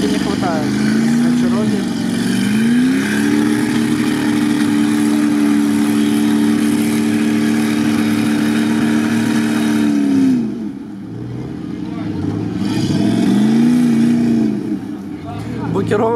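A UAZ off-road vehicle stuck in a deep rut, its engine revving hard and holding a high strained pitch, dropping off, then surging again, loud and close, with voices talking under the noise.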